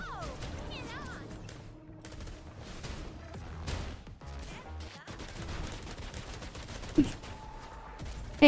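Video-game gunfire in Wuthering Waves: dense, continuous volleys of shots and combat effects layered with music, with a sharp burst near the end and a voice talking over part of it.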